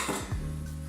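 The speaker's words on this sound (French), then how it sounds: "Qu'est-ce que tu fais avec tes casseroles?" A brief clatter of metal saucepans and utensils knocked together in a home kitchen, a quick couple of clanks with a ringing tone lingering after.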